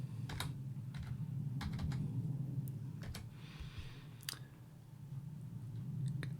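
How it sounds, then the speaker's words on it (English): Typing on a computer keyboard in a quiet room, a steady run of close, light key clicks with irregular gaps over a low background hum. "type in ESP8266"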